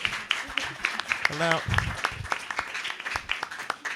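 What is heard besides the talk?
audience applause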